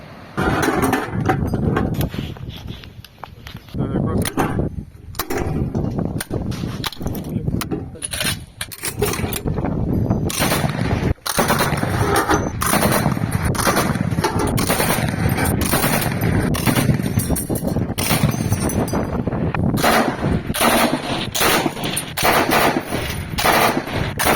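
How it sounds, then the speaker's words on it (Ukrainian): Military shooting practice on land near the sea, with dense, loud bursts of automatic gunfire and rapid shots filling the scene almost continuously, some metallic clatter mixed in. "Проводимо стрільби як і вдень"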